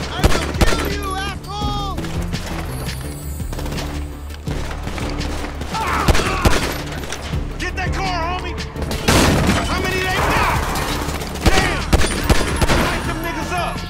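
Gunfire in a first-person shootout in Grand Theft Auto V, repeated sharp shots and bursts mixed with booms and shattering, with voices talking over the chaos.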